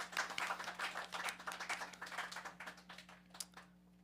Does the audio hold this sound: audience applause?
yes